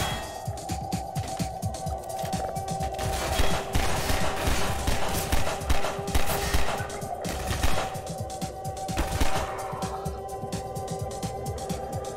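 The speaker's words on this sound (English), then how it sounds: "He has some type of automatic gun." Automatic gunfire in the VR game Half-Life 2 VR: rapid, sustained bursts of machine-gun fire with rattling shots and a steady tonal hum underneath, fairly loud throughout.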